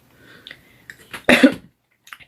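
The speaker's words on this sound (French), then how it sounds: "La toux, c'est la période." A woman coughing during an indoor talk, a few small throat sounds followed by one strong, close cough and a faint trailing breath.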